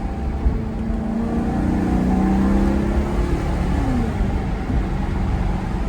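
A Maserati V8 with sport cats in standard, non-sport mode drones steadily from inside the car, a moderate exhaust hum that swells slightly and eases as it downshifts, fairly tame and continuous.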